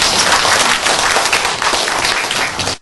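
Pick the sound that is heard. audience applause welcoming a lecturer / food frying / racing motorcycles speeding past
audience applause welcoming a lecturer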